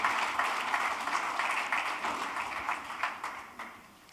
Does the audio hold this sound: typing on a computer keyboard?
no